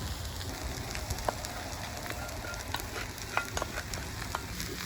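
Eggs fry in a wok over a rocket stove outdoors, giving a soft, steady crackling sizzle with scattered sharp pops and faint clicks throughout, fairly quiet and without talk.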